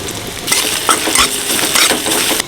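Panch phoron, ginger and asafoetida sizzling in hot oil for hing biulir dal, a close, lively crackle broken by brisk stirring scrapes and clinks of a utensil against the pan.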